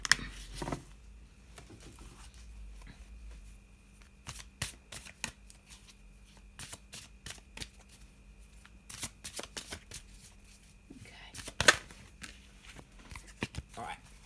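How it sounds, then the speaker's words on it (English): Tarot cards being shuffled in quick bursts of riffling and flicking, close and crisp, with quiet stretches between, in an otherwise calm room. "So I'm just going to have a little shuffle and see what we get."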